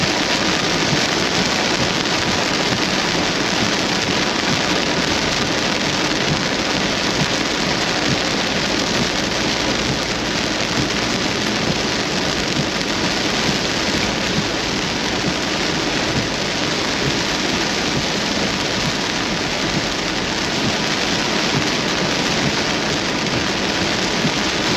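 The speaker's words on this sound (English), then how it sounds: "There is a severe thunderstorm warning on it now." Steady heavy rain from a severe thunderstorm in Iowa, a loud continuous hiss that stays even throughout, with no distinct thunder claps standing out.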